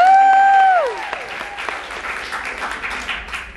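A group of girls at a Girls State program gives a round of applause, a dense, lively clatter of clapping that rises as a tone fades and then carries on steadily.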